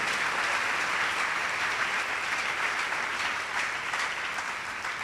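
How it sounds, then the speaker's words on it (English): A summit audience claps in a full, even burst of applause from many hands, sustained and fairly distant-sounding throughout with no talk over it. "Please, let's clap for them, all of them once again."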